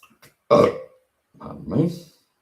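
A person lets out a single loud, deep burp close up, followed a moment later by a softer drawn-out vocal sound, in an otherwise quiet room.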